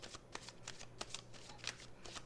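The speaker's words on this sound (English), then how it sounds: "Okay, one more shuffle and then cut." A deck of tarot cards is riffled and shuffled in quick, crisp bursts of papery flutter, close and fairly quiet, with a faint steady hum underneath and no voices.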